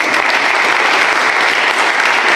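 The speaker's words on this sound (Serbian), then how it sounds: "Jedan veliki aplauz." Audience at a formal Serbian-American commemorative event giving a big round of applause, dense steady clapping from a large crowd, close and loud throughout without talking.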